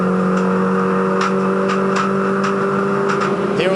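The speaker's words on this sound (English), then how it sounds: "That's all that hitting and banging you can hear going on in the car. It's not the engine, it's just rubber flicking up under the guards." Inside a MINI Challenge racing car at Eastern Creek, stones and dead rubber flick up under the guards as sharp, scattered knocks and bangs over the loud, steady engine drone, with no talking.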